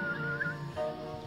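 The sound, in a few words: person whistling with a full-mouth whistle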